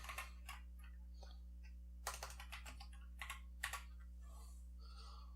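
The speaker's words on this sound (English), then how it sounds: "see if I can get something typed really quick" Typing on a Tezarre TK61 RGB mechanical keyboard: quick, irregular key clicks in short bursts with a few louder clacks, close up and alone over a steady low electrical hum.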